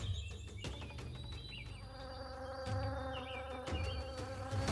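Bees buzz close by in a continuous, droning hum, with wingbeat pitches that rise and fall as individual insects pass near the listener. No voices are heard.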